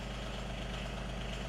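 Polaris Pro XD full-size diesel engine idling steadily, a continuous low rumbling drone that stays close and even throughout with no other sounds.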